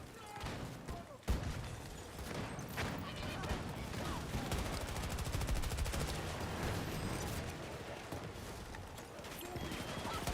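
Grenade explosions and gunfire in a video game, a dense continuous fusillade of rapid shots and bursts with occasional heavier booms, layered with a talking voice throughout.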